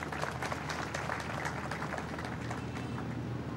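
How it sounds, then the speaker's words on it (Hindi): Applause from a seated audience at the inauguration of Karachi National Stadium, a dense sustained crackle of many hands clapping, steady and moderately distant, with no speech over it. "तो इन सब के लिए एक दफ़ा तालियां।"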